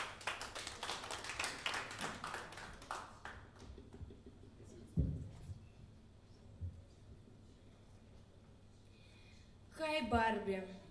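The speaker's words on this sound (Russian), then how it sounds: "Катя Семенова, ваши аплодисменты." Applause from a small audience at a live show, a burst of quick close claps that thins out and fades, followed by faint room noise and a brief louder sound at the end.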